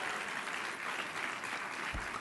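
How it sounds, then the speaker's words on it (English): Audience applause at a live food policy celebration event, a steady broadband wash of clapping sustained across the whole short stretch at moderate level. "the kids on the stage who are behaving very well deserve an amazing round of applause"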